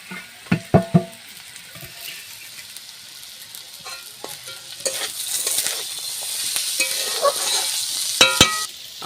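Beetroot and carrot fry in a kadai, with a few sharp stirring scrapes and knocks early on, then a steady sizzle that swells and continues under occasional clatter.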